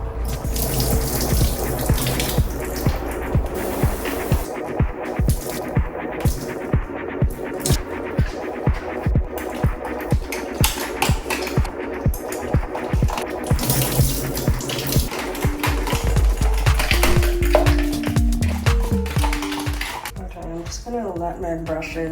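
Hot water runs from a tap for soaking makeup brushes and beauty sponges, a steady splashing flow that continues throughout with music playing over it.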